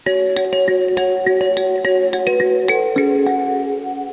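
Close, sustained plucked metal mbira tines ring out in an interlocking pattern, bass and treble lines overlapping into a continuous shimmering melody.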